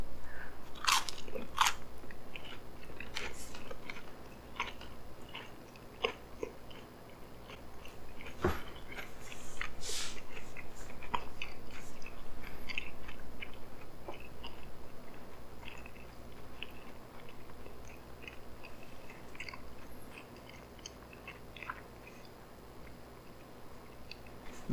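Someone chews a full mouthful of food with sweet chili sauce, close up, giving repeated wet crunches and soft squishy chewing with a few sharper bites, steady for a long stretch with no talking.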